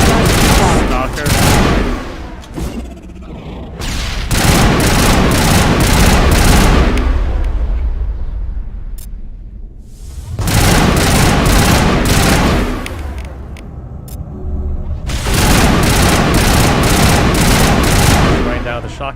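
Shotgun fire in Mass Effect Legendary Edition comes as loud, close, rapid volleys of blasts in several long bursts, separated by short lulls.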